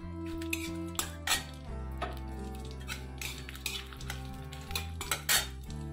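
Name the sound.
frying with cardamom, stirring in a pan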